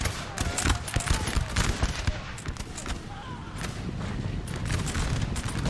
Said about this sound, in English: Both sides seem to be shooting right now.